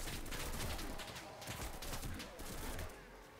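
Rapid, dense gunfire crackles continuously in a battle in the video game Enlisted, a Nagant revolver among the weapons, loud and sustained with no pauses and no voices.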